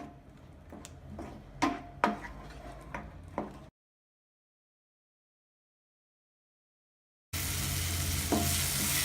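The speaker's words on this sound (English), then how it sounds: "Saute for some more time." Paneer butter masala gravy sautéing in a pan, a spatula scraping and tapping against the metal in irregular strokes over a soft sizzle, followed by a gap of silence and then a louder steady sizzle close up.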